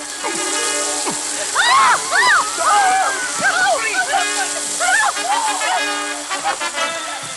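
A garden hose sprays with a continuous watery hiss and splatter while excited voices talk and shout over it.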